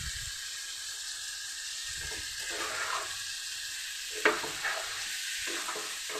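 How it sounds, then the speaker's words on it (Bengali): Spice masala is sautéed in a pan while cooking a hilsa fish-head recipe with taro, a steady soft sizzle with scraping stirs and a couple of sharper spoon knocks near the end, close by and without talk. "মশলাটা আমার কষানো হয়ে গেছে।"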